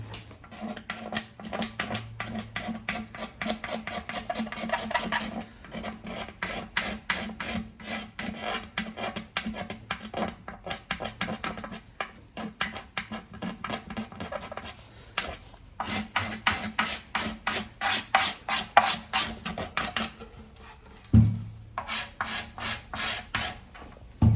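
A sharpened hand tool scrapes hardened polyester drips off a wooden saz body, with rapid repeated rasping strokes in bursts and short pauses, close and steady.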